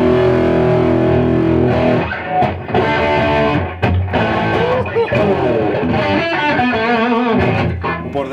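An electric guitar plays chords through a heavy distortion effect, loud and sustained, with a thick, buzzing tone that rings out and changes chord several times.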